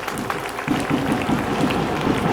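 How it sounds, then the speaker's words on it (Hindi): Crowd at a Shiv Mahapuran religious gathering in Rohna Kala, Chhindwara, clapping steadily and loudly in welcome, with an even rhythmic patter throughout and voices in the background. "कर रहे हैं जोरदार तालियों के साथ"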